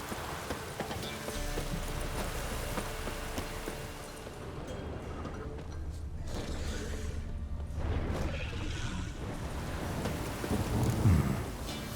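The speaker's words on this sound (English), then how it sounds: "A storm, damn it." Thunderstorm in The Witcher 3 with steady rain hiss and deep thunder rumbles swelling midway and near the end, mixed with game ambience and what sounds like hoofbeats.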